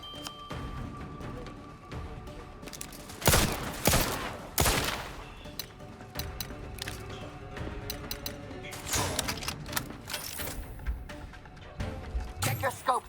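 Bursts of sci-fi gunfire crackle in The Outer Worlds 2 video game, loud volleys and rapid shots interspersed with quieter gaps, with a voice speaking over the combat.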